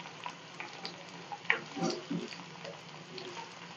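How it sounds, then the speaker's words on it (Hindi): Onions added to a hot karahi of oil for beef karela gosht, frying with soft intermittent sizzles and a few stirring clinks and scrapes, fairly quiet and close with no talk. "अब हम इसमें जो मैंने प्याज रखा था वो इसमें ऐड करूंगी और हम इसको भी गोल्डन ब्राउन करेंगे।"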